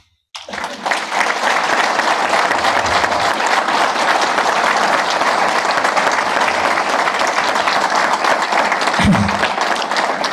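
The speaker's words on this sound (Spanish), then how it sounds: "les quiero pedir un aplauso para el staff de CONASA" A large audience at the closing session of the 30th CONASA annual meeting breaks into sustained, loud applause for the staff, a dense even roar of clapping that holds steady throughout.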